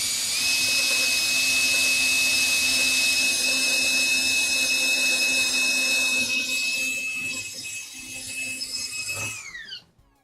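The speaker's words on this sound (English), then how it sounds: "Pre-drilling 2 holes." A power drill pre-drills two holes in wood while building a miter saw station, running as a steady, loud high whine for about nine seconds before spinning down and stopping near the end.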